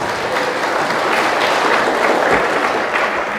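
Steady applause fills a church after a candle dance, with a congregation clapping loudly and continuously for a few seconds.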